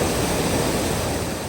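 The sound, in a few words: waterfall at Ras-el-Ma spring in Chefchaouen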